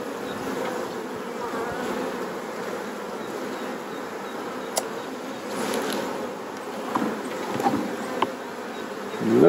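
Honey bees at a hive being split into mini-plus swarm boxes buzz in a steady dense drone, close and fairly loud, with a few louder bees passing near.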